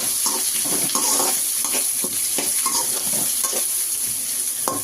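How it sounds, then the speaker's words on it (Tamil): Garlic stirred and fried in a pan for a fish sambar, a loud continuous sizzle broken by repeated spatula scrapes and stirring strokes, close and with no voices. "இப்போ இதை போட்ட பிறகு நல்லா கிண்டி விட்டுக்கலாம்."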